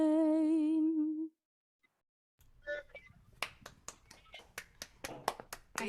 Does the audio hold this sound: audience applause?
yes